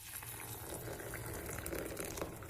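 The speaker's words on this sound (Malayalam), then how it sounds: "അതിനുശേഷം നല്ല തിളച്ച വെള്ളം ഒഴിച്ചു കൊടുക്കുക." Boiling water poured from close by over ada in a bowl, a continuous splashing gush of liquid filling the vessel with no voices.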